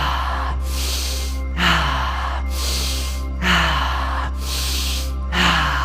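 Deep, forceful breaths during a guided breathing exercise come close and loud in a steady rhythm, with long rushing inhales and exhales repeating about every second and a half over a low background hum.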